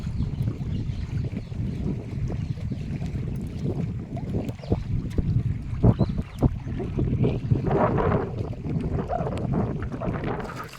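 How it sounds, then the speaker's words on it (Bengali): Fishing boats move on the Garhal river in stormy weather, their low rumble and water sloshing blending with gusty wind noise, with irregular knocks and splashes close by. "নদীতে কিন্তু আরও নৌকা এসছে মাছ কাঁকড়া ধরার জন্য"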